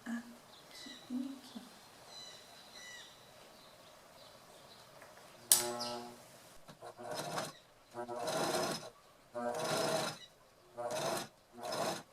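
A sewing machine runs a straight stitch while bias binding is fed in slowly for a frasqueira case, starting in short bursts and then running in several distinct pulses of stitching, fairly close and moderately loud, with a voice heard earlier.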